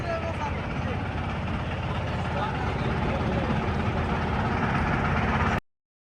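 A trawler boat's engine runs with a continuous low, chugging throb that holds steady until it cuts off abruptly near the end. Voices of people aboard may sound faintly over it.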